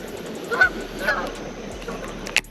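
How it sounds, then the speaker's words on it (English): Geese honk at a lake: a few loud, separate calls near the start and middle, then a sharper honk near the end, over steady outdoor background noise. "I apologize about the loud geese. I'm sure that's obnoxious on the audio."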